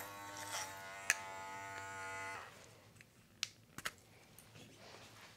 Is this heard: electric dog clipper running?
yes